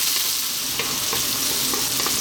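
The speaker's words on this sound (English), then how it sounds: "let's just fry them around again for another 2 minutes" Frozen mixed vegetables stir-fry in a hot pan for egg fried rice, a loud, close, continuous sizzle with faint stirring movements and no talking.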